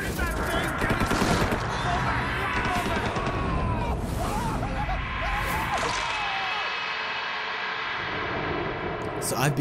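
Gunfire in the horror video game Outlast, dense bursts of shots over a loud, rumbling game soundscape, with a voice talking at times.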